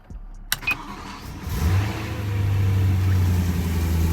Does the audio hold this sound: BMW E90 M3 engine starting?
yes